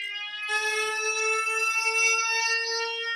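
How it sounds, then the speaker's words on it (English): A loud, sustained warning siren at the Hack Green nuclear bunker starts abruptly after a brief lower tone and holds a steady pitch. "pretty soon, a siren should go off."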